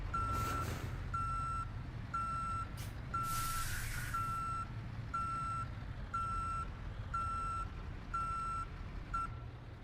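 A truck in Euro Truck Simulator sounds its reversing alarm, evenly spaced high beeps repeating about every second, loud and clear over a low engine hum.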